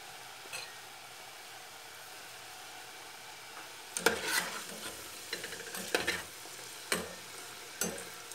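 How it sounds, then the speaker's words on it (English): Samsi tatlisi, a Cypriot pastry, frying in hot oil: a steady low sizzle at first, then sharper crackling bursts and a few light clinks as pieces are added and moved, no voices. "so we can now place them in to fry"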